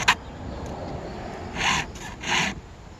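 A hand file rasps across the damaged teeth of a chainsaw ripping chain: a faint scrape at the start, then two or three short, bright filing strokes in the second half, close and quiet, with no talking.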